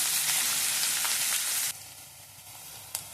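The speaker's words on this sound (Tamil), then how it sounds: "கொஞ்சம் வதங்க வெங்காயம் போட்டுக்கிறேன்." Onions frying in a pan: a loud, dense sizzle close by that drops sharply in level partway through, leaving a quieter crackle with a stir or tap near the end.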